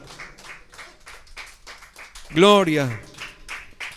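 Church congregation clapping in a steady rhythm, with a voice shouting loudly over the claps partway through.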